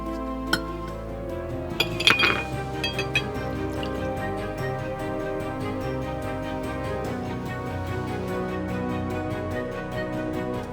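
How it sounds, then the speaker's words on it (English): An ice cube is dropped into a whiskey Old Fashioned cocktail glass, giving a few sharp glassy clinks early on, then a steady background of bar music with no talk. "place that ice cube into the glass,"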